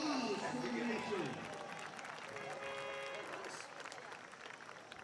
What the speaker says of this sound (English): Let's give you a very big round of applause for the nation.